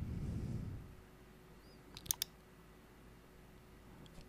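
Computer mouse clicking while temp files are deleted, a quick cluster of two or three sharp clicks midway and one softer click near the end, faint against a quiet room hum.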